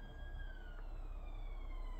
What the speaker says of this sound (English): Just excuse the traffic outside, sorry about that,